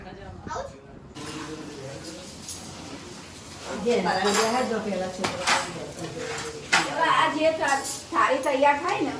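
Plates and cutlery clatter and clink as food is served at a family gathering at home, with scattered clanks of dishes under ongoing conversation.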